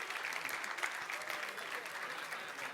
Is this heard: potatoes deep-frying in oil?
no